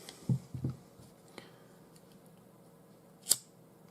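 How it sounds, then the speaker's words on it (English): Scissors snip off the cord ends after a final knot while tying a circle stitch, giving a couple of quiet close clicks early and one sharper snip near the end in a quiet room, with no talking. "So we just need to cut them off."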